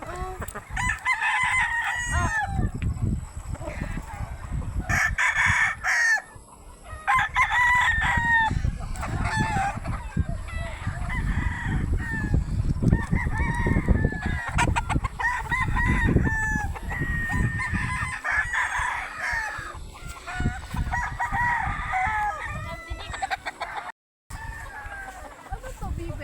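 Chickens cluck steadily up close while a rooster crows several times, loud farmyard fowl sounds running throughout, with people talking now and then in the background.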